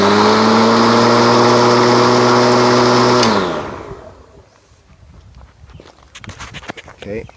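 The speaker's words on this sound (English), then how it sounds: "I should have 24 volts right here to run the lawnmower." A lawnmower runs on 24 volts from series-connected Tesla batteries, its loud steady electric motor whine holding for about three seconds before spinning down and fading. Quiet rustling and handling noises follow.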